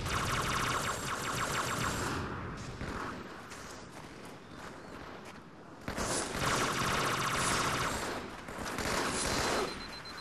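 Carbine gunfire in a video game sounds as dense, rapid bursts of shots, loud and sustained across most of the clip with a brief lull in the middle, mixed with faint game clatter and no voices.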